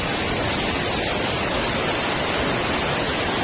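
Tad Sae waterfall near Luang Prabang gives a loud, unbroken broadband roar of falling water, heard close and steady with no voices.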